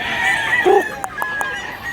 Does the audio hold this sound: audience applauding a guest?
no